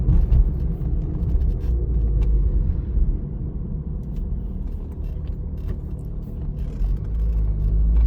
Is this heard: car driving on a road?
yes